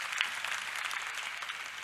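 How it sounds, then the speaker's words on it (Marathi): A gathering at a Marathi religious festival claps for the volunteers, a steady, moderately distant wash of many hands that stays even throughout without voices. "त्या सर्व सेवेकरी मंडळीसाठी एकदा टाळ्या वाजा महाराज"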